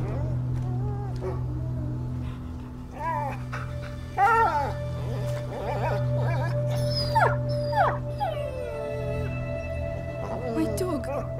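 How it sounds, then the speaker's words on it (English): A dog whimpers and howls in the video game A Plague Tale: Innocence, high yelping cries rising and falling over a low drone, with voices speaking at times. "My dog."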